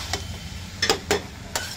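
A spoon stirring carrot, pea and potato sabzi mixed with fresh coriander in a pan on a switched-off stove, four short scraping clicks at uneven intervals over a faint background hiss.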